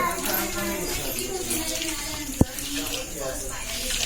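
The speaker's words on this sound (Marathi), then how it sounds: "स्वतःची बाटली त्यामध्ये पाणी ओतत आहे" Water is poured from a bottle in a steady, gushing stream, close and continuous, with voices talking faintly underneath.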